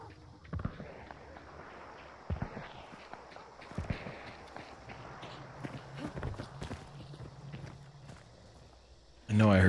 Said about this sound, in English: I know I heard footsteps.